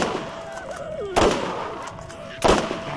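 Gunfire in the video game Borderlands: two loud, sharp shots about a second and a half apart, each with a short ringing tail over a steady game background.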